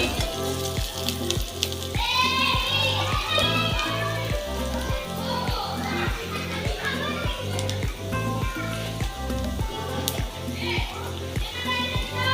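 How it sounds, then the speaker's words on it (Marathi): Green chillies and ginger pieces frying in hot oil for a spicy crispy soya chunks snack, a steady sizzle running beneath continuous talk. "मिरची हिरवी मिरची घातली आणि आलं आल्याचे तुकडे आल्याचे हे तुकडे चांगले तेलामध्ये मस्त तळसून घ्यायचे"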